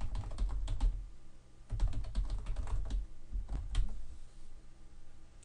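Rapid clicks from a computer keyboard as a website address is typed, quick bursts of keystrokes with short pauses between them, close and fairly quiet with no talking.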